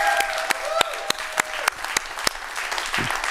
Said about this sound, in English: can we give another round of applause to Carol?